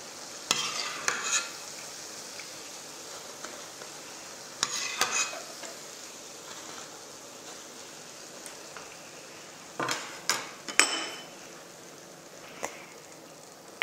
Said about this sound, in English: And repeat the frying until all the batter is finished.